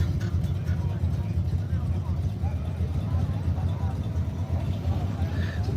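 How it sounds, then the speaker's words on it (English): Single cab truck engine at a Miami car meet, a low rumbling idle and rev running steadily throughout with road and crowd noise around it. "Single cab truck sounding nasty though."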